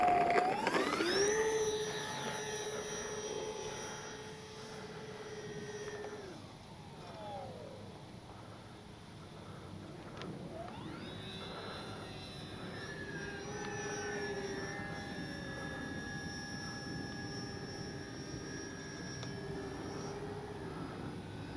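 AVIOS Twin Otter RC airplane with twin electric motors, flying down the runway at a speed run, a steady high-pitched whine that rises and then falls away, returning as a second pass with a sustained buzzing tone.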